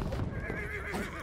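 A horse in the World War I shooter Battlefield 1 gives a short, loud whinny that rises and trembles. It is close, with faint clip-clop behind it and no talk over it.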